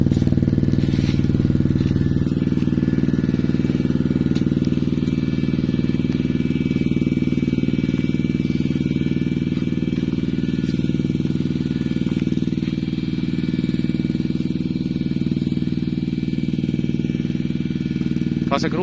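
A single-cylinder motorcycle engine runs throughout, a loud, continuous mid-pitched drone with steady clatter, while people talk over it.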